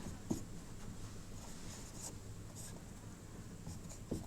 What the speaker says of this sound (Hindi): ये तो यहाँ हम लिख सकते हैं